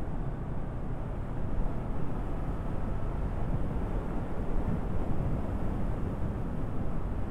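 A 2024 Honda CB500 Hornet motorcycle cruising in top gear around 4,000 rpm, a steady low engine drone buried in heavy rushing wind buffeting the microphone, continuous and even, with no speech.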